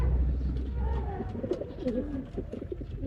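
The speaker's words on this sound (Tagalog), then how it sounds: "Binabarakuhan na ng red grizzle, oh." A red grizzle pigeon coos in low, repeated throaty phrases during courtship, close by, with faint bird chatter and a brief voice in the background.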